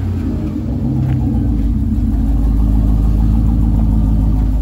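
A pickup truck with worn, bad tires rolls along, its engine giving a loud, steady low rumble close by throughout, with no voices.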